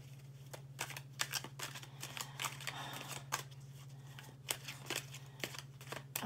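Tarot cards are shuffled by hand in quick riffling bursts of papery flicks and slaps, repeated throughout, close but quiet over a low steady background hum.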